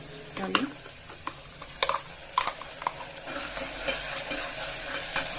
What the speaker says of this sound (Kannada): ಈಗ ನುಣ್ಣಗೆ ರುಬ್ಕೊಂಡಿರ್ತೀವಲ್ಲ ಮಸಾಲೆ, ಅದನ್ನು ಕೂಡ ಹಾಕೊಂಡ್ಬಿಡಿ